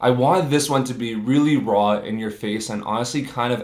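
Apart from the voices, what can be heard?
No distinct noise like a dog, phone or traffic.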